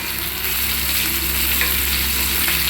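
Green chilies fry in hot tempering oil for Karimnagar-style chickpea gudaalu, giving a dense, continuous close sizzle with faint stirring and no talking.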